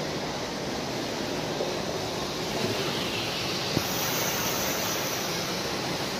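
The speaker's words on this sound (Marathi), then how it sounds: "जोरदार पाणी चालू आहे." Strong water flow behind a shrine at the Gagangiri Maharaj math in Khopoli, a steady broadband rush that stays loud and constant throughout with no talking.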